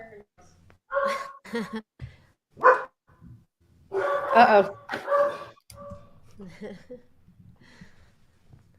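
Several dogs bark and yip in short bursts, some close and loud, with a person briefly speaking between the barks.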